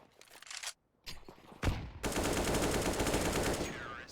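Rapid automatic gunfire sprays in a competitive Counter-Strike-style esports match, starting with a few short bursts and then swelling into a dense, sustained volley, with faint commentary underneath.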